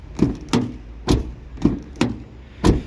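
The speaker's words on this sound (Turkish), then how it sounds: "Şimdi hemen bir kapı sesini bakalım." Fiat Egea Sedan car doors are shut repeatedly, six close, dull thuds spaced about half a second apart with no talk.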